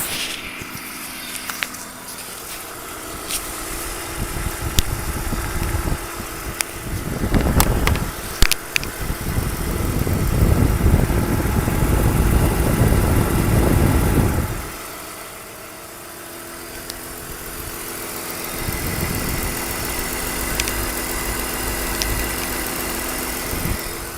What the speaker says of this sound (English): I'll bring the microphone nice and close to the fan and belt we see running down here